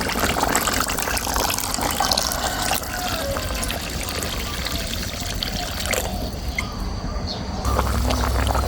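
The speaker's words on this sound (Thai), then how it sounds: "เติมน้ำลงไปได้" Water pours into a bubbling pot of Thai catfish curry with pekaa pods, a continuous close splashing gush and trickle that runs steadily for several seconds.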